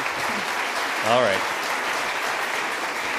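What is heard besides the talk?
audience applause at leadership debate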